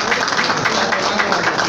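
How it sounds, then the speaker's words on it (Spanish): An audience at a political gathering welcoming a PAN councilwoman with a brief burst of dense, continuous clapping, fairly loud and even. "Le damos un aplauso."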